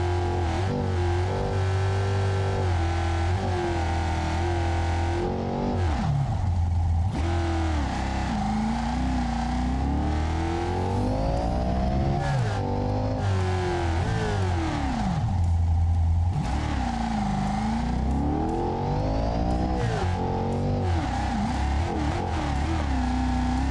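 Race car engine in a racing video game revving at high RPM, a loud continuous drone that rises and falls with repeated upshifts and throttle swells, alone without talk for the whole stretch.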